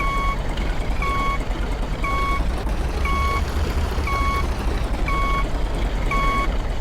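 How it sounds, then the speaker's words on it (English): A farm vehicle in Professional Farmer 2014 sounds its reversing alarm, a loud, evenly spaced two-tone beep repeating about once a second over a constant low engine drone. "That nasty beep, beep, beep's driving me nuts."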